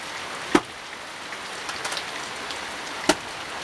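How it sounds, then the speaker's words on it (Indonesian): Rain falls steadily outdoors with a constant hiss of drops on surfaces, punctuated by two sharp, louder drip or tap impacts. "karena hujan ini ya, hujan melanda alur"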